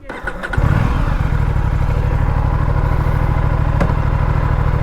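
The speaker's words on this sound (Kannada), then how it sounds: "ಅಪ್ರೆಲಾ ಓಡಿಸ್ತಾ ಇದ್ದೀನಿ, ನಂಬಕ್ಕೆ ಆಗ್ತಾ ಇಲ್ಲ ಈ ಗಾಡಿನೆಲ್ಲ ಓಡಿಸ್ತಾ ಇದ್ದೀನಿ ಅಂತ" An Aprilia RS 457 motorcycle rumbles loud and close, with a steady, throbbing engine note held under the rider and a brief clatter at the start, no speech over it.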